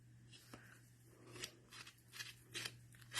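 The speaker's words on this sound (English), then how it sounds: "So we are opening up the scissors all the way." A pair of scissors, opened all the way, roughs up the edges of a handmade stamped card. The blade makes quiet, irregular scraping strokes in short bursts over a low background hum.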